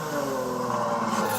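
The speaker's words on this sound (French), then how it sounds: "Et ça, c'est le son d'aujourd'hui, le V12 atmosphérique, une FF." A Ferrari FF with a naturally aspirated V12 sings in a brief, loud, sustained high rev, smooth and close, with no voices over it.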